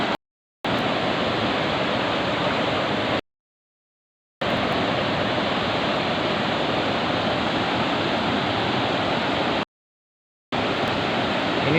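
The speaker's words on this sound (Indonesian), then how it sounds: "Sungai ini airnya sangat deras." A fast-flowing river in Riseh, Sawang, Aceh Utara rushes in a dense, steady broadband roar, loud and close, cutting out briefly a few times.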